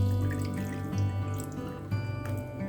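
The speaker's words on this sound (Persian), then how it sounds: "آب رو توی قابلمه میریزم" Tap water running into a cooking pot in a home kitchen, a steady splashing stream with small bubbling surges, moderately quiet and alone without talk.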